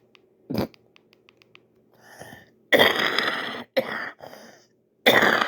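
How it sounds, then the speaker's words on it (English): A single person coughs and clears their throat in short harsh bursts, several separate coughs spread over a few seconds with quiet gaps between, close and loud, with faint ticking in the background. "I had to cough"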